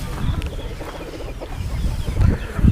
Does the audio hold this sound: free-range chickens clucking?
yes